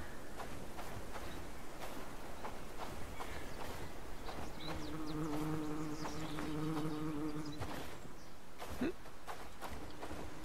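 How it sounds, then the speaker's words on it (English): A bee buzzes in the video game Bellwright in a snowy outdoor scene, a steady droning hum that swells for a few seconds in the middle over soft ambient game sound. "But yet there was a bee sound."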